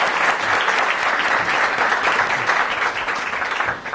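Dense, steady audience applause fills a Turkish television studio as two performers are welcomed onto the stage for a skit, loud and continuous throughout with no talk over it.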